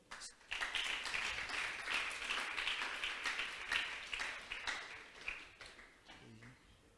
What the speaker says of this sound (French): Il y a un deuxième applaudissement.